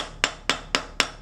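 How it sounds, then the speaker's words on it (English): A lead-free rawhide hammer striking a hollow construction ring on a mandrel, four evenly spaced dull thuds, close and clear with no speech. "I'm using a rawhide hammer that doesn't have any lead in it"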